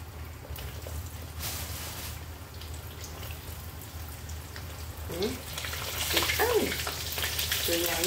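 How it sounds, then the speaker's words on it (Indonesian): Black glutinous rice rengginang crackers fry in hot oil, a steady bubbling sizzle that grows louder and busier toward the end, with no talking over it. "Goreng rengginang."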